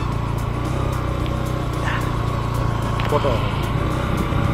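A motorbike engine labouring in first gear while climbing a muddy forest road, a steady close drone throughout, with someone talking over it.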